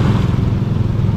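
A motorcycle tricycle engine runs close by on a flooded road, idling with a loud, rough low rumble and steady chugging and no talk.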